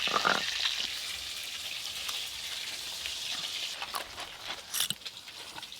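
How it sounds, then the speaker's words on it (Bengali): Fish pieces fry in hot oil with a light, crackling sizzle, like patter. It runs steadily at moderate loudness, with a few sharper bursts of crackle toward the end. "এই মাছের পিসগুলো বেশ ভালো করে ভাজা হয়ে গেল।"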